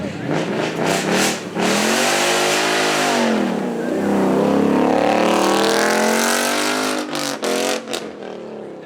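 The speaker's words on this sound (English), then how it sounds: "The noise is just formidable out the back of that" A Ford Mustang's engine roars and revs loud and close at a supercar event, a long sustained bellow rising and falling in pitch, with sharp crackles and revs near the end.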